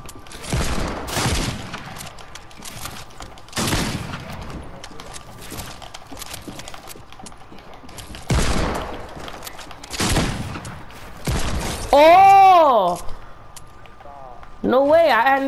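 Hand cannon shots in a video game, a series of loud sharp bursts at irregular intervals with pauses between, some followed by ringing whooshing tones near the end.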